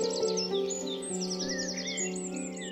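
Bird chirping in the children's story Pierre et le loup, rapid bright twittering calls in quick bursts over sustained musical tones.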